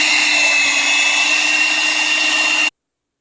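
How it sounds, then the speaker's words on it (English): Electric mixer beating cream cheese and cornstarch on low, a steady loud whirring hum held for a few seconds and then cutting off abruptly. "Miss Christina got me pulling out the mixer and everything"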